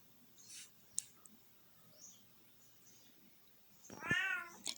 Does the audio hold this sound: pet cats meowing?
yes